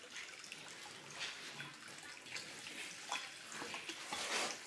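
City tap water runs inside a house under construction in the Philippines, a faint, uneven trickling and splashing with soft surges, heard alone without talk.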